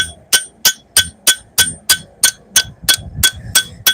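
Hammer blows ring out on metal over an anvil while a sword is being forged, about a dozen sharp, evenly spaced clangs in a steady rhythm, loud and close.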